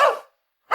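A dog barks once loudly and up close, and a second bark starts just after a brief silence.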